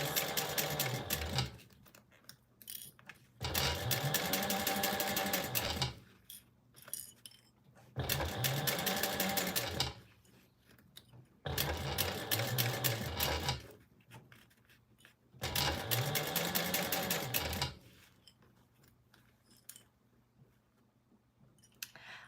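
A sewing machine stitches a sling seam at a 4 stitch length and 3/8 inch seam allowance, running in five bursts of about two seconds each, with quiet pauses and fabric handling between runs.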